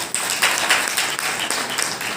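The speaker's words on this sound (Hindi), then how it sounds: "जोरदार तालियां।" A seminar audience gives a short burst of steady, moderately loud applause, a continuous patter of many hands clapping with no speech over it.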